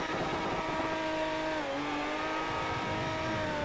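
Aston Martin Vantage engine in the Project Cars racing game, a loud sustained drone with pitch sliding down then steadying while drifting, tires faintly squealing, no talk.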